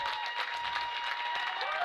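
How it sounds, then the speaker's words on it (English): Fans at a girls' high school basketball game stand and clap near the final buzzer, a continuous patter of applause heard somewhat distant in the gym. "There's a lot of standing and clapping."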